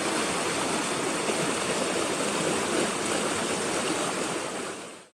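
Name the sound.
flowing river in Roosevelt National Forest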